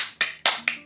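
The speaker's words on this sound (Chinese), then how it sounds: "鼓掌鼓掌" Four sharp hand claps, close and evenly spaced, with nothing else in between.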